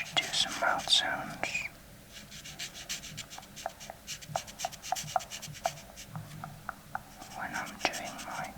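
A pen scribbles across paper while drawing and coloring: soft scratchy strokes and light taps in an irregular rhythm, close and quiet, with whispering over the top.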